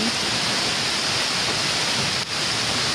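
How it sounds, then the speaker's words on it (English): Heavy rain pouring down at a lakeside campsite in Algonquin Park, a loud, dense, unbroken roar of drops close by with no talk and only a brief dip near the end. "it's straight up downpouring"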